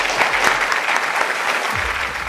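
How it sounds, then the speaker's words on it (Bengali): Studio audience clapping for a team on a student quiz show, a loud continuous burst of many hands clapping with a faint low thump near the end. "টিমের জন্য একটা জোরে হাততালি।"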